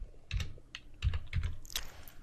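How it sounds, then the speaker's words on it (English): Keys clacking on a computer keyboard while entering a database query, a few quick close-up strokes in small clusters, quiet and alone. "I'll type in the schema first, which is human resources."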